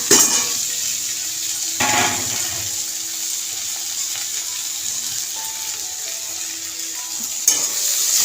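Local greens (saag) frying in a pan in a home kitchen, a steady loud hiss of sizzling with occasional spatula scrapes and a clatter near the start and end, no talk over it.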